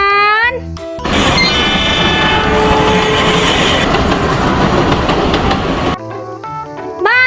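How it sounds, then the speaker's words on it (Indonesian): Toy Thomas-style train running with a steady rattling clickety-clack and whirring motor for several seconds, loud and close, with a voice speaking before and after it. "Wow, ada kereta api, teman-teman."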